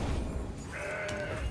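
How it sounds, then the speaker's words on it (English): A Mountain Goat card from the Legends of Runeterra card game gives a short bleat, a wavering goat-like cry over a busy low rumble of game sound, loud and close for about a second. "A Mountain Goat."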